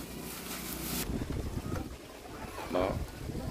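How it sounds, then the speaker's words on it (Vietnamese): Strong gusting wind roars across an outdoor microphone as rain moves in, a steady rushing buffet with a louder surge near the end. "Các bạn có thể nhìn thấy là gió rất là to."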